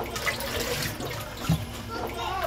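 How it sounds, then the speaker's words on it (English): Rainwater pours down through a pipe installed on a rooftop, a dense continuous rushing and splashing that holds steady and close for the whole stretch. "Rainwater flows down through the pipe installed on the rooftop."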